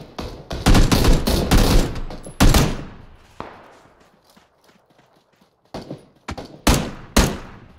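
Gunfire in a battle royale game comes as rapid clusters of loud, close shots, a quiet stretch, then more bursts.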